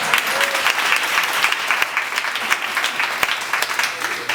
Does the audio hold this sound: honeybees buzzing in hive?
no